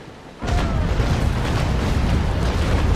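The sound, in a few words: ship cannons firing a broadside, Naval Action video game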